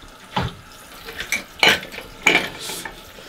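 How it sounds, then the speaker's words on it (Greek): Dishes and cutlery clatter and rattle while being washed, in several sharp bursts of clinking over a faint watery background, close and fairly loud, with no talking. "Έχει άφθονο χώρο για όλα τα πιάτα που θες να πλύνεις εδώ πέρα."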